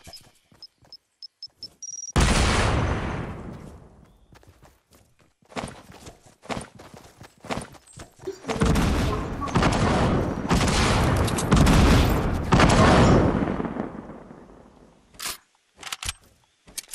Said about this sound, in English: And a sticky grenade.